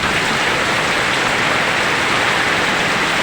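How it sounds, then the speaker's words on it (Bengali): Heavy rain from a Kalbaishakhi storm in Kishoreganj, Bangladesh, roars as a dense, unbroken hiss, loud and steady throughout with no talking. "প্রচন্ড শক্তি কিন্তু বৃষ্টি হচ্ছে।"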